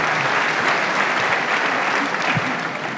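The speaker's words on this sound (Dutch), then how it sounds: "Geef Han een warm applaus" Warm, dense applause from a studio audience at an award ceremony, a steady wash of many hands clapping close and full for the whole stretch, with no voices over it.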